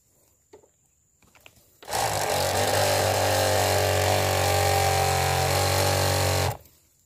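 Weed sprayer pump driven by a DC dynamo starts after a few faint clicks and runs as a loud, steady motor whir with a low hum for about five seconds, then stops abruptly.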